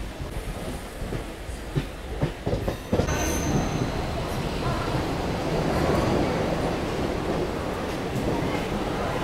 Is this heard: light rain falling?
no